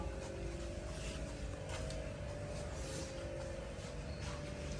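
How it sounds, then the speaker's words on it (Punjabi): A New Holland tractor engine idles with a steady low rumble, continuous, close and even, with no voices. "ਟਰੈਕਟਰ ਦੀ ਤੁਹਾਨੂੰ ਸਾਊਂਡ ਚ ਸਟਾਰਟ ਕਰਕੇ ਚੈੱਕ ਕਰਾ ਦਿੰਨੇ ਆਪਾਂ"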